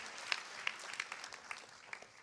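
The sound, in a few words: audience applause at graduation ceremony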